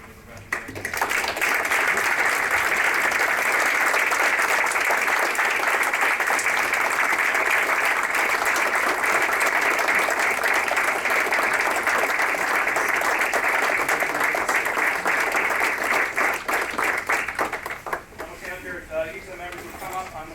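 Applause for members of a veterans park group at a board meeting: a steady, full round of clapping from the room lasting about seventeen seconds before tapering off.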